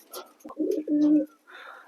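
Lotan pigeons coo nearby in a low, throaty warble, two or three rolling calls, with a little background noise between them.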